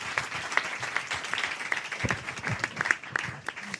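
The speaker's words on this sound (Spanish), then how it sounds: "Pues un fuerte aplauso para Quique" A crowd gives Quique a strong round of applause at a live comedy and podcast event, with uneven clapping throughout and some voices underneath.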